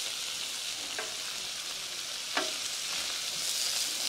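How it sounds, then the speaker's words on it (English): Meat fries on a flat top griddle outdoors, a steady bright hiss of sizzling fat with a few soft scraping stirs, continuous and fairly quiet with no talking. "Can you hear the sizzle?"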